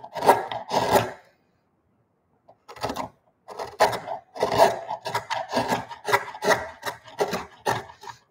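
An Arbortech TurboPlane power carver slices through wood in short, rasping bursts, with a gap of near silence after the opening passes and then steady repeated cuts, close and fairly loud.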